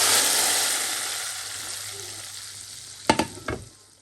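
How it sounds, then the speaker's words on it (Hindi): Tadka tempering for dal sizzles and fries steadily in hot oil, a broad hiss that slowly fades, then a few sharp louder spits and crackles near the end as more goes into the pan. "जैसा कि आपने देखा है तड़का भी लग गया था"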